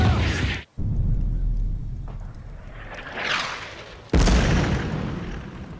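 A howitzer fires in a WWII-era Bolt Action tabletop battle scene: a low, rolling rumble is broken by a brief dropout, then a sudden loud blast near the end that decays into a long roar. No one speaks.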